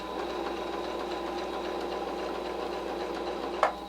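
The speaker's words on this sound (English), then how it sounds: "we're going to sew right from the edge at our 1/4 inch seam." Sewing machine stitching binding onto a quilt at a quarter-inch seam, a continuous even motor drone with a rapid needle rhythm, moderately loud and close, ending in a short sharp click, with no voices.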